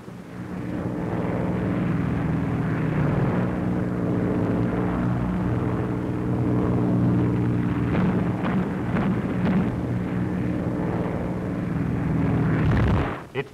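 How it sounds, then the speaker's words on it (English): Allied Air Forces aircraft drone steadily overhead for the whole stretch in a 1944 wartime newsreel, a loud continuous low engine roar with a brief dip near the end. "all day and all night, aircraft of the Allied Air Forces are in the air"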